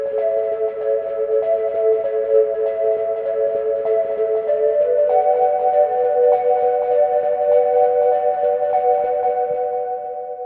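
Sustained synth tones shift slowly between a few notes, bathed in a lush, spacious Space Designer reverb placed directly on the instrument that lets each note linger and blend. No voices.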